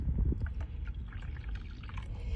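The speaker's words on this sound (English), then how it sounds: "what I'm going to do is add a cup of cold water," Cold water pouring from a cup into a bowl of Jello mix, a steady close splashing pour with a low gurgle running the whole time.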